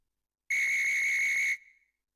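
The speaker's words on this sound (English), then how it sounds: "we'll hear the whistle again, and that will restart the Grand Parade" A single sharp whistle blast signals the restart of a grand parade at an agricultural show, lasting about a second and fading with a short echo, loud and clear against silence.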